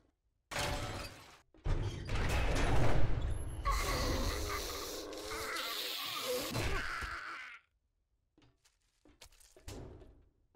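Metallic wrenching and clanking as objects are pried apart with a wrench in the video game 7 Days To Die, a dense burst of scraping, rattling hits lasting several seconds, followed by a few faint knocks.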